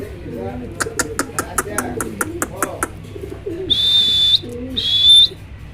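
A pair of fancy racer pigeons in army-like coloring coo in low rhythmic pulses at close range while a person talks over them, followed by two bright sustained whistle-like tones.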